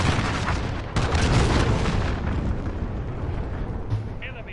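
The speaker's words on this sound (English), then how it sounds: "Enemy cruise missile." Explosions from an enemy cruise missile strike in an online shooter video game, a heavy booming blast near the one-second mark followed by a sustained rumbling roar that slowly settles.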